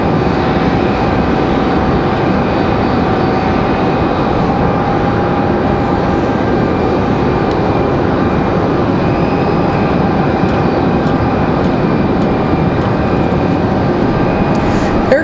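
An Air Canada airliner at Raleigh Durham airport produces a loud, steady engine drone with sustained whining tones layered over a deep rumble, continuous throughout.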